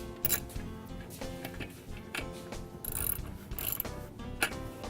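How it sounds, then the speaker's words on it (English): Socket wrench ratchet tightening T-bolts with a 13mm socket on aluminum extrusion, heard as rapid repeated clicking strokes close by, fairly quiet, with a few sharper metallic knocks in between. "go down the line with your socket wrench and tighten the rest of them in"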